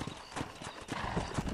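A horse in Red Dead Redemption gallops with quick, rhythmic clip-clop hoofbeats. The sound is faint and brief, with the impacts evenly spaced and a hint of the horse's whinny.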